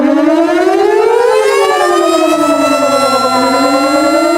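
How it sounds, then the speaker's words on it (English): A tornado siren wails loudly, sweeping up in pitch, dipping, then climbing again in a continuous howl. It sounds alone, with no voices. "Tornado Siren."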